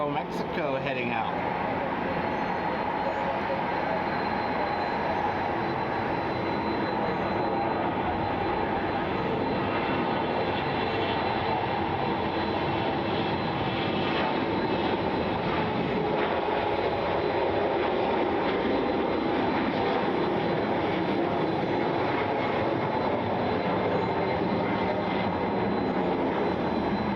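An Aeromexico airliner departs at Atlanta Hartsfield-Jackson Airport during severe storms, a dense, steady roar of jet engine noise that holds evenly throughout.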